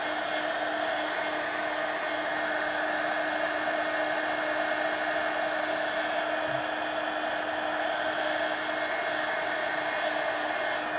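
Hair dryer blowing warm air over layers of paint in an art journal, a steady unbroken whir with a constant pitch that runs alone at even, close, loud level from start to finish.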